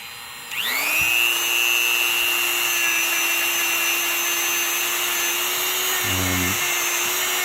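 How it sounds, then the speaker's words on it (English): A Dremel rotary tool spins up and grinds steadily at close range while cleaning rust off the brake pad seats of a 2014 Ford Focus rear brake, giving a continuous high whine with a brief rough scraping near the end. "we're gonna use a Dremel, and we're gonna clean it out."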